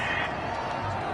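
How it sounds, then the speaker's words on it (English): A home stadium crowd in the Madden 21 football video game cheers in a steady, dense roar after a penalty call, loud and continuous throughout. "This home crowd, they're happy with that call."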